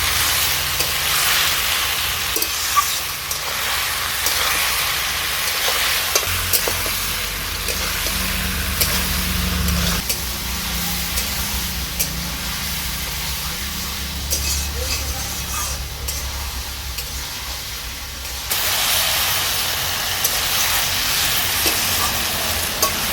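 Taro stolons with jackfruit seeds, salt, turmeric and chili powder frying in a pan, a continuous sizzling hiss with stirring scrapes and a low rumble, the sizzle swelling louder near the end.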